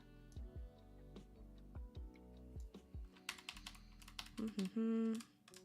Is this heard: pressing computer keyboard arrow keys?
yes